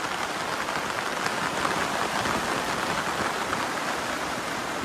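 Dense, steady rain pours down continuously, a loud even hiss of drops hitting surfaces with no voices.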